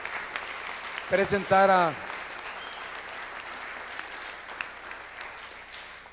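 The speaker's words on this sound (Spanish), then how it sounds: "vamos a dar un aplauso de bienvenida a toda la gente que nos está viendo" A church congregation gives a welcoming round of applause, a steady wash of clapping under a voice that speaks briefly over it.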